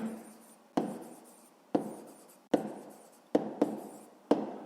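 Chalk or pen tapping and scratching while a solution to a sixth-grade math exercise is written out, a series of sharp strokes at uneven intervals, each decaying quickly, close and fairly clear with no talking.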